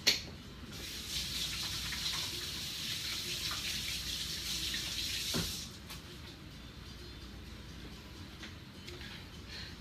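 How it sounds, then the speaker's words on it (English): Hands washed under a running tap at a sink: a steady hiss of flowing water for about five seconds, then it shuts off and leaves only quiet room noise. No one talks. "Let me wash my hands again."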